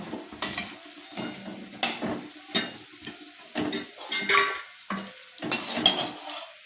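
Fried bitter gourd leaf fritters are lifted from a frying pan: irregular scraping and clinking of a utensil against the pan, with soft sizzling between the sharp strokes.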